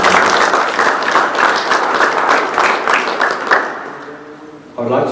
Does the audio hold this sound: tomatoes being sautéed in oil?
no